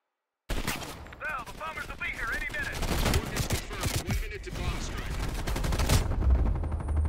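Sustained gunfire in Black Ops Cold War rattles close and loud through the whole stretch, dense overlapping shots with explosions, while game voices and sirens-like tones sit underneath.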